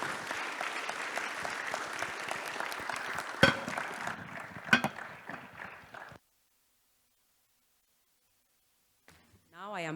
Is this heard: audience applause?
yes